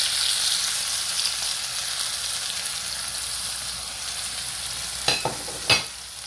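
Onions and peppers sizzle steadily in hot oil for a catfish dish, a constant close hiss, with a couple of brief scraping stirs near the end and no talking.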